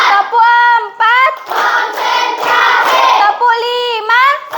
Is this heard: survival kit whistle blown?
no